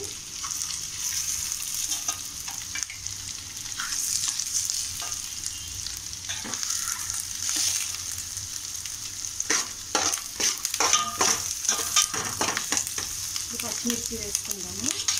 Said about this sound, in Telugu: ఇది ఫ్రెష్గా చేసుకొని వేసుకోండి అల్లం వెల్లుల్లి.